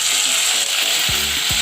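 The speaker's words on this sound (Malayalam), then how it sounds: "ഇപ്പോൾ നമുക്ക് മീൻ വറുത്തെടുത്തിട്ടുണ്ട്." Karimeen (pearl spot fish) frying in coconut oil in a pan, giving a steady, loud, dense sizzle that holds throughout with no talking.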